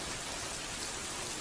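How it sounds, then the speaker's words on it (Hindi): Rain falls in a steady, soft, even wash of patter, faint and continuous without voices. "तुम इसलिए बारिश की बूंदें पीती हो?"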